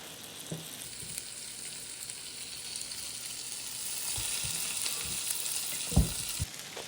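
Four homemade vegetarian burger patties frying in a pan, giving a steady, fairly quiet sizzle throughout with a few sharper pops and crackles toward the end.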